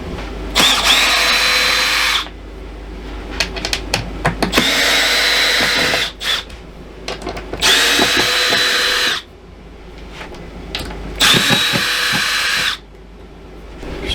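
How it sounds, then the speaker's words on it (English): A Milwaukee M18 impact driver backs screws out of a fascia panel in four loud, close whirring bursts, each about two seconds long, with quiet pauses and small clicks between them. "Now we take our trusty Milwaukee M18 hammer and get these screws out of this fascia"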